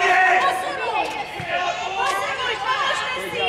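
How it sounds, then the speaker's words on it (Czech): Many voices murmur and overlap in a continuous crowd chatter, with no single speaker standing out. "Proč to nahráváš do davu, Moni?"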